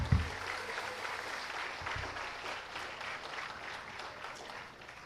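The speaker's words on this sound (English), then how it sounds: "join me in giving another round of applause to them all" Sustained audience applause for the finalists at a Houses of Parliament design competition awards ceremony, steady even clapping from a crowd in a hall, slowly tapering toward the end.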